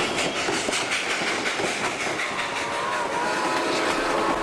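A steam locomotive rumbles past on the rails near Blanca, Colorado, a loud, steady roar with a rhythmic clickety-clack running through it and no voices.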